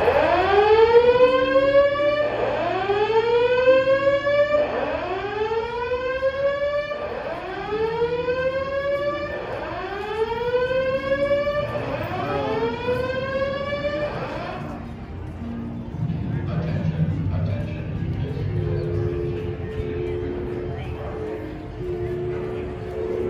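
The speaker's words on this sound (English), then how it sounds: "Fire alarm." A building fire alarm siren wails in repeated rising sweeps, loud and near, about six cycles before cutting off, with people talking underneath and a lower hum and voices continuing after it stops.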